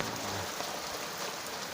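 Rain falling during the rainy season, a dense continuous hiss of drops, steady and fairly loud, with no voices.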